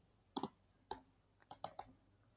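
Keys on a computer keyboard are tapped while code is entered, a few quiet, close clicks in short uneven bursts, with no voices over them.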